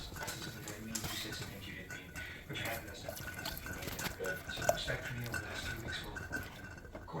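A whisk scraping and clinking steadily against a pan while slurry is worked into brown gravy over low to medium heat, a soft continuous metallic stirring with occasional taps.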